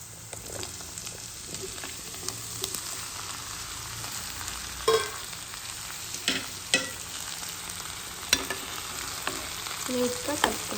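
Potatoes fry in a covered pan with a steady dense sizzle, broken by occasional louder crackles and stirring clinks, heard alone without talk.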